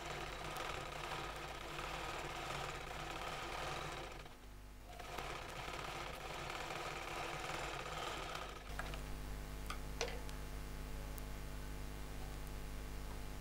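A sewing machine doubles a stitched seam on a divider salwar, keeping up a continuous mechanical whir with a brief dip in the middle. The machine sounds close but fairly quiet, settling into a steadier hum toward the end.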